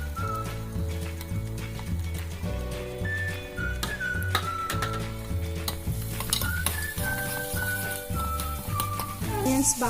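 Onions sizzle in a pan with cloves, cinnamon and green chillies while being stirred with repeated scraping strokes, steady and close, under soft background music with no voices.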